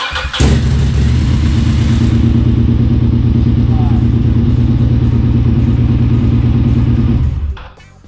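A motorcycle engine starts and idles with a loud, steady, throbbing rumble up close, then cuts off and dies away at the end.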